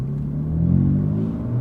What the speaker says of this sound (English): He's got those burbles on aggressive mode. So the exhaust is a Remus exhaust